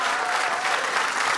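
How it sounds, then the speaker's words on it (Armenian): A studio audience claps warmly for Sona Matevosyan, a dense, even round of applause from a crowd that holds steady throughout. "մի շնորհակալություն ծափարենք Սոնա Մաթևոսյանին"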